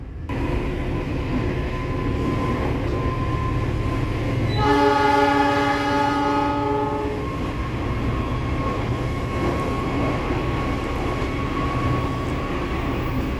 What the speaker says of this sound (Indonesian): barusan tadi kereta api Argo Wilis berpapasan dengan sesama Argo Wilis di sinyal masuk stasiun Kutoarjo